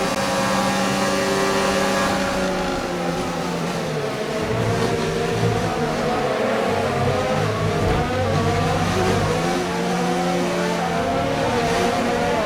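Formula 1 cars in the F1 2019 racing game at the Canadian Grand Prix, engines howling steadily at high revs with layered rising and falling pitches as several cars race close together, loud and continuous throughout.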